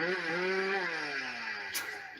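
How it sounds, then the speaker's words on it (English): A chainsaw engine runs loud and close, its whining drone rising and then sagging in pitch as the throttle eases, with a brief burst of noise near the end. "Can you hear me over the chainsaw?"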